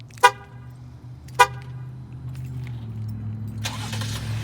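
A 2018 Jeep Grand Cherokee Limited with the 3.6 liter Pentastar V6 is remote started: two sharp horn chirps from the key fob, then the engine cranks and catches into a steady idle nearby.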